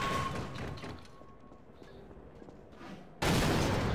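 A shotgun blast goes off in a video game, a loud broadband burst near the end following a quieter stretch of in-game ambience.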